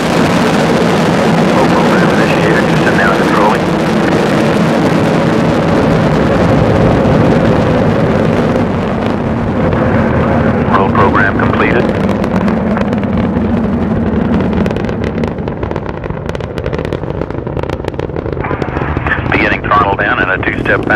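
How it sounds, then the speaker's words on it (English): Sustained, loud low-frequency roar from Space Shuttle Discovery's engines climbing away after liftoff on mission STS 51-A, a broad rumble filling the whole span with a mission-control voice talking over it. "Liftoff of Discovery and the first flight to retrieve and return satellites from space"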